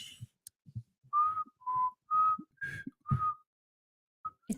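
Someone whistles six short, clear tones at a steady pace, close and fairly loud, with breathy pauses and soft mouth noises between them.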